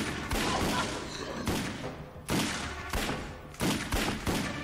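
Bursts of gunfire in the video game Alone in the Dark (2008) crack out in rapid, repeated volleys of sharp booming shots close up, one after another.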